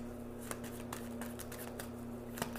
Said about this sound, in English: Let's shuffle three times.